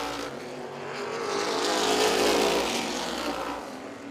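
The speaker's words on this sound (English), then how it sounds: "The Wheeler Trucking number 86 coming down out of turn 4." Race cars roaring around an oval dirt track during a heat race, a loud, continuous engine drone that swells as the pack draws near and passes, then fades slightly, with no talk.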